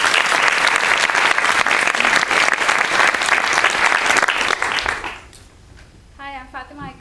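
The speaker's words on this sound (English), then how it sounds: "give her a big round of applause" Loud, sustained applause from an audience fills the first five seconds, then fades out, leaving a brief voice beginning to speak.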